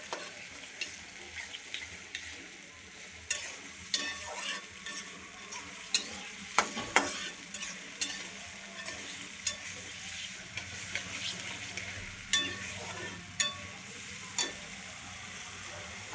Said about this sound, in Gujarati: ડુંગળી અને ટામેટાં. સારી રીતે મિક્સ કરી દઈશું.